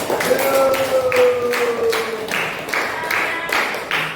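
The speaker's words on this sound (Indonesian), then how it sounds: "Kasih tepuk tangan dulu." Classroom group gives a round of applause, a rhythmic, fairly loud clapping in regular bursts, with a sustained held tone from a voice or instrument drifting underneath at the start.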